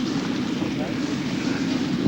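A helicopter flying in for a medical evacuation during a military exercise, heard as a steady, close, loud engine and rotor drone with no break.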